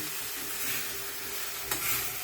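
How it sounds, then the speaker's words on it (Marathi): Smashed eggplant for spicy Vidarbha-style bharit goes into a hot pan, giving a soft, steady sizzle of frying with a few quiet stirring scrapes, fairly faint and with no talk. "यानंतर यामध्ये टाकूया हे स्मॅश केलेले वांगे"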